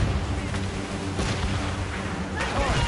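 Ship cannons firing in a naval battle in a PS4 video game, a few heavy booms under dense continuous battle noise and shouting voices.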